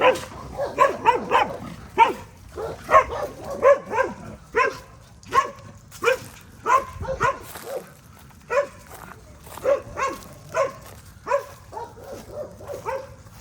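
Several dogs bark repeatedly and excitedly at a figure running past a small window, sharp close barks coming in rapid bursts with some yips and whimpers mixed in, continuing throughout.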